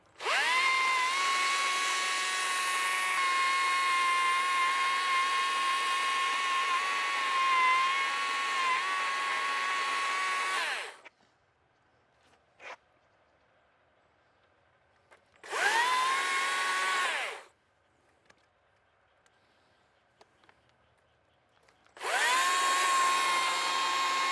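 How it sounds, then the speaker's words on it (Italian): Chainsaw carving a wooden mushroom sculpture during a beginner carving lesson: a long, steady high-pitched motor whine, then silence with small clicks, then two shorter bursts of the same close, loud cutting drone. "si vede che sei abituato a usare la motosega con la barra normale"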